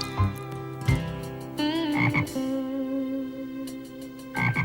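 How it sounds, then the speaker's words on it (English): A frog sitting in a farmyard water bowl gives a series of loud, close, drawn-out croaks, with short bursts at the start and a long sustained call in the middle. No one speaks. "there's a frog in our water bowl"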